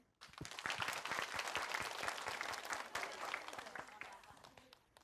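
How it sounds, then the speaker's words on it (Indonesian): An audience at an Islamic preaching competition breaks into loud, sustained applause, many hands clapping densely and evenly before gradually thinning toward the end. "Di sini yang masih muda boleh tepuk tangannya"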